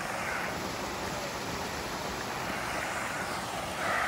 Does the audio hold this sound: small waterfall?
yes